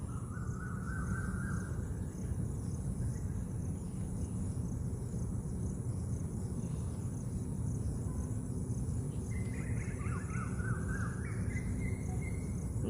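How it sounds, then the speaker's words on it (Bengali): An Asian koel gives rising whistled calls, once at the start and again in a short series later, moderately distant over a steady background of crickets and insects in a garden. "এখনো পর্যন্ত কোকিলের ডাক শোনা যাচ্ছে"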